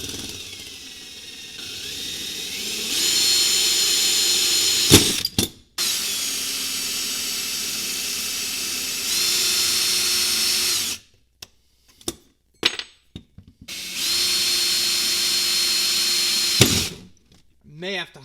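A power drill bores holes for a pedal box on a Factory Five Type 65 Coupe kit car, three long sustained whining runs separated by pauses filled with clatter and handling noises, close and loud.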